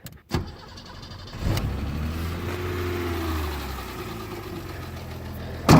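A BMW E30's small engine turns over and settles into a steady, rough idle close by, with a rattling low hum, a shaking exhaust and a brief clunk near the end.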